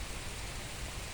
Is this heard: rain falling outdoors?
yes